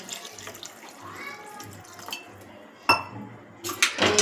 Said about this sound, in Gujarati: અને આપણે તેમાં થોડું પાણી એડ કરીશું